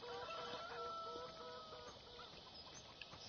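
Chickens cluck in the farm yard of Farming Simulator 17 on PS4, on the Sosnovka map: a steady, soft run of overlapping clucks with no voices.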